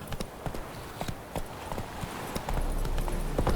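Hooves of Roach, the horse in The Witcher 3, clip-clop steadily at a walking pace, near and clear over a soft outdoor bed, quickening slightly toward the end.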